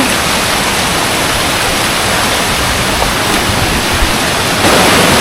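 A tiered jungle waterfall roars in a loud, constant wash of rushing water, close and unbroken from start to finish.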